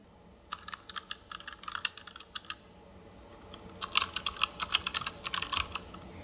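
Keys clack in quick bursts of typing on a TUF Gaming K7 keyboard with tactile optical-mechanical switches, a sparse run of presses followed by a faster, denser flurry near the end, close and clear with no click.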